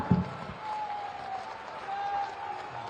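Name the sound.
audience applause at a public event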